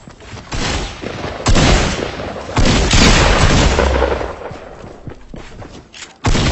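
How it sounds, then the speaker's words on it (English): Pump shotgun blasts in a battle-royale style video game, several loud booming shots spaced irregularly across the stretch, each with a heavy thud and decay, one more sharp blast right at the end. "land those shotgun shots"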